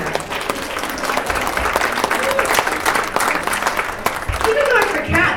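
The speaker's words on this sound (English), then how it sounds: "may I have a big round of applause for Christina" Loud, dense applause from a comedy show audience, continuous clapping with some crowd noise that holds strong throughout.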